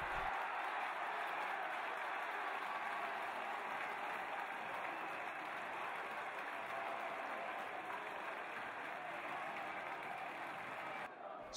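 A crowd roars and applauds as a rugby try is scored in a boys' schools cup final, a dense, sustained wash of cheering and clapping that holds steady throughout, heard from a distance.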